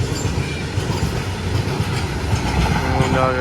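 A long train rolls past close by with a steady, dense rumble and rattling wheel clatter that continues throughout, ending with a faint squeal of wheels.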